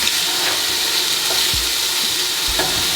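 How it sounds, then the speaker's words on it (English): Tomatoes sear cut side down in hot oil, giving a loud, dense, continuous sizzle up close, with a couple of low thumps from the pan, as if shifted or stirred, and no talking. "now we're just gonna place the tomatoes cut side down and sear them until they char, caramelize, and wilt"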